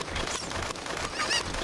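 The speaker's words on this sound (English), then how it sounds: "In Zelda, they're called cuckoos or something like that." Cuckoo chickens in the video game The Legend of Zelda: Ocarina of Time give a brief, harsh squawk under a busy game soundscape, rising slightly near the end.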